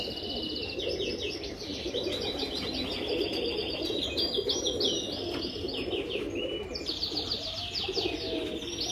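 Pigeons of a rat-like breed coo steadily on a Sharjah rooftop, a low continuous murmur under bright, repeated chirping from small birds, with no talk.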